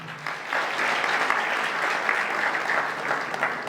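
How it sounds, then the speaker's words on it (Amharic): An audience at a cultural awards night with traditional dress gives sustained warm applause, a dense, even wash of many hands clapping that continues without a break, with no talking. "ሞቅ ያለ ጭብጨባ እንዲግዜ"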